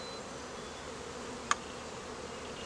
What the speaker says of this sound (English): A couple bees still on it, so we're being careful not to smash them.